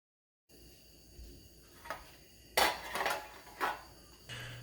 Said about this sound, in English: Okay, we're going to cut the shrimp into thirds.